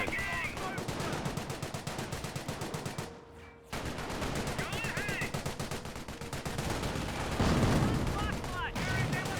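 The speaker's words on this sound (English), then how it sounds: "Mortar hits Panzer Grenadiers." A Company of Heroes battle between Panzer Elite and British forces, with mortar shells landing on Panzer Grenadier infantry amid loud, continuous rapid gunfire and machine-gun bursts.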